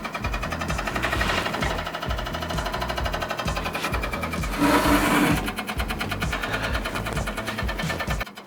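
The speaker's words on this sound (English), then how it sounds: "it was the front intake fan that was making a weird noise" A steady mechanical droning rattle with a rhythmic knocking pulse, loud and continuous, swelling briefly midway, from a faulty front intake fan grinding inside a running PC.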